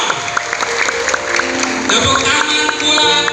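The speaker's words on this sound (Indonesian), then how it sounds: "Tepuk tangan buat Tuhan Yesus yang luar biasa." A church congregation claps for Jesus at a Christmas celebration, steady mid-loud applause with a crowd murmur and background music throughout.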